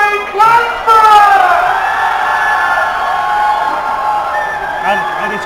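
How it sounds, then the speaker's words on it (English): A stadium crowd cheers and shouts for the newly crowned 2014 national champions, the Stirling Clansmen, after a championship final against the Birmingham Lions; a loud, sustained roar of voices that swells early and holds steady throughout. "the Birmingham Lions all stood there applauding"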